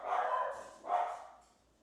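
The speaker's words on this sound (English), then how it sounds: "Bad dogs. Bad dogs. They're barking with their collar on it." Dogs barking indoors at home, two sharp bark bursts in quick succession, fairly close and fading out afterward, with no talking.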